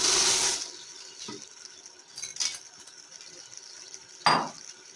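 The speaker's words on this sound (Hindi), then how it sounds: "जितनी मैक्रोनी थी ना उतना ही आपने इसके अंदर पानी डालना है।" Water poured into a pot of uncooked macaroni while cooking chicken macaroni, a short splashing pour at the start followed by faint clinks and a brief second splash, close and moderately quiet.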